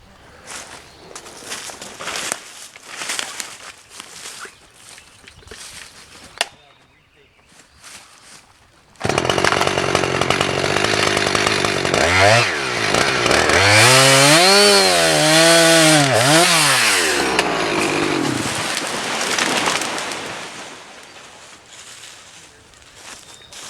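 A chainsaw cuts through a pole-size hickory tree, starting with footsteps and handling noise, then a loud close engine roar that swings up and down in pitch as the bar bites, before dying away.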